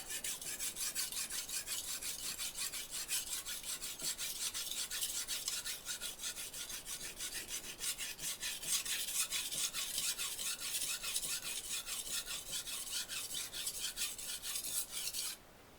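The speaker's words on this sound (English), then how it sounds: "This sharpening right here." A knife blade being sharpened on a brick, rasping strokes repeated rapidly and steadily for about fifteen seconds, close and fairly quiet, with no voices.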